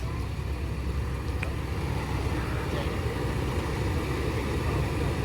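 A Jeep Grand Cherokee Trailhawk engine idles and rumbles low and steady while crawling an off-road trail obstacle, a constant close drone with no talk over it.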